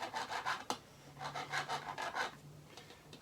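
Rhythmic rasping strokes of a smooth file working a wooden fret board on a junk-built cigar box guitar, close and fairly quiet, with one sharp knock early on and no voices.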